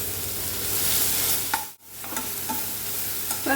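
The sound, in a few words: chopped tomato sautéing with masala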